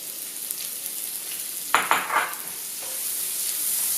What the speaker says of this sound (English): So we're going to be putting in the red onions first.